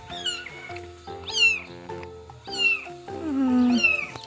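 A mother cat meows repeatedly for her kittens, four drawn-out, rising-and-falling cries spaced about a second apart, fairly close and clear with no talking.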